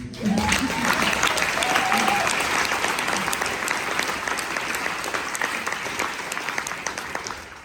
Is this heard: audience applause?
yes